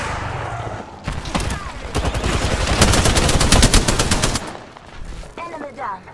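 Rapid automatic gunfire in the video game Apex Legends rattles in a sustained close burst for several seconds, with a voice speaking briefly before and after.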